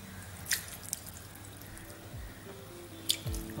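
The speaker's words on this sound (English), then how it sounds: "We will sprinkle some water" A few quiet splashes and drips of water land in a pan, brief and sparse against a faint background hum.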